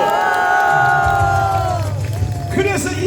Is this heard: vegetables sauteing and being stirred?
no